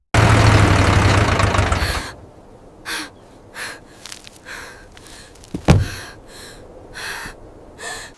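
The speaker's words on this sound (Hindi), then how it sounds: "वहीं सुमन सारा खेत जोतकर ट्रैक्टर से नीचे उतरती है।" A tractor engine rumbles loudly and steadily after ploughing a field, then cuts off abruptly, leaving quiet breathing and a few small scattered noises.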